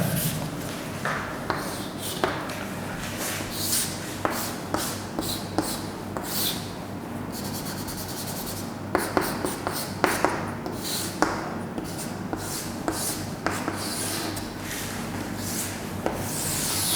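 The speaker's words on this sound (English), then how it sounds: "now I draw another diagram" Chalk or marker drawing a diagram on a classroom board gives irregular scratchy rubs and sharp taps, close and moderately quiet, scattered across the whole stretch.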